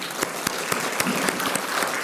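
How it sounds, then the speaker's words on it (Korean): An audience at a school event applauds with a steady, dense clapping that holds for about two seconds at an even level, and there is no speech over it. "우리 그런 의미에서 학교에 박수 한번 쳐드릴까요?"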